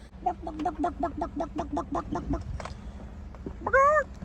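A man imitates a chicken's clucking with a run of about ten quick, evenly spaced vocal clucks, then a short pause and a rising squawk at the end, close and fairly loud, with no other talk.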